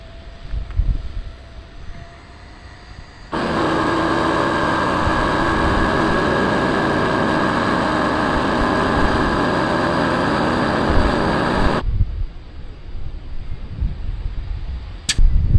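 A Shark 3 Mini rechargeable SUP and kayak air pump, compared with a Big Daddy pump, runs as a loud steady whine for about eight seconds, starting and stopping abruptly between quieter handling noises.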